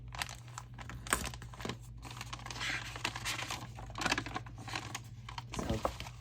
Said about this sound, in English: I can just tape it back down on this side.